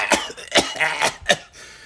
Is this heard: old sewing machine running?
no